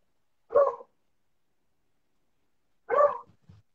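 A dog next door barks twice, each a short, clear bark, separated by about two seconds of silence and followed by a faint trailing yelp.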